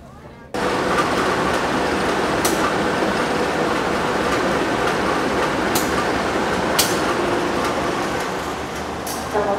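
Inside the Airlangga passenger train on the Surabaya–Jakarta run, a loud steady rumble of wheels on rails sets in suddenly and holds, with occasional sharp clacks and metallic ticks over the continuous roar.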